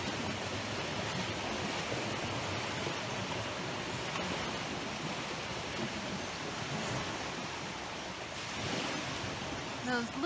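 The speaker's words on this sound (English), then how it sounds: "Those little bitty waves are creating all that sound." Small ocean waves washing steadily on a shore, a continuous soft hiss of surf with gentle rising swells, moderately distant and unbroken.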